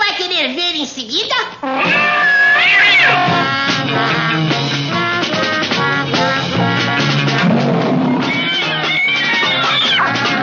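A cartoon kitten meows in a Woody Woodpecker cartoon, crying in short pitched wails early on. Busy orchestral cartoon music and voice work follow and carry on loudly for the rest of the stretch.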